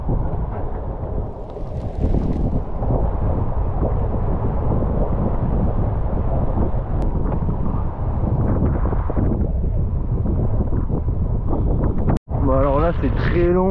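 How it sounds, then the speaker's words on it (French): Heavy wind rumbles and buffets the microphone continuously while cycling into a headwind on a long road ride, a loud low roar that nearly drowns everything, with a brief dropout near the end. "Un vent, un peu de face."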